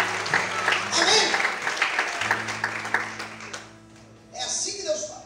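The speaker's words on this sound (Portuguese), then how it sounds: "Se você pode aplaudir o Senhor" A church congregation applauds during a sermon, a loose wash of clapping under a speaking voice that thins out partway through before voices rise again.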